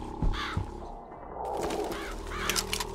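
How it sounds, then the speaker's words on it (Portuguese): A crow caws a few times in Bioshock Infinite, with harsh calls standing out near the start over a steady game ambience and background music. "Nossa, um corvo comer..."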